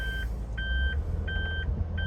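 Reversing beeper of a 2021 Suzuki Spacia (MK53S) kei car shifted into reverse: four evenly spaced electronic beeps, clear and close over the low rumble of the idling engine inside the cabin.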